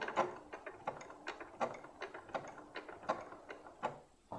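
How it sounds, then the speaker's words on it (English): Home sewing machine running a short locking stitch to secure thread while making a fabric sock monkey, a quiet mechanical whirring chatter of rapid needle strokes, close and soft. "I'm just going to do a locking stitch just to secure that thread in place there."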